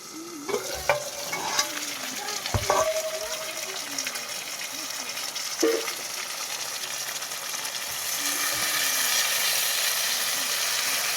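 Bata fish frying in a covered karai tilted by its handles, a steady crackling sizzle with scattered clinks and scrapes, sounding fairly close and growing a little fuller toward the end, with no talk over it.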